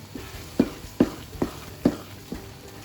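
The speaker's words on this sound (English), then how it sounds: "As you can see, it's sticking to the pan. There's quite a bit of sugar in there, that's why. So keep on stirring." Sugary carrot halwa being stirred in a pan, the spoon scraping sticky mixture about five times at a steady rhythm of roughly every half second, close and moderately loud over a faint background hiss.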